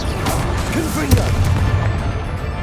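In Hogwarts Legacy, a Confringo blasting spell detonates with a sharp booming crack in the middle of continuous battle noise and rumbling impacts, while a voice briefly calls out over the din.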